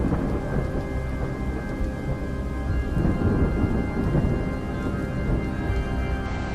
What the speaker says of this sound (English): These storms sweep across the land, transforming it into a vast sea of water.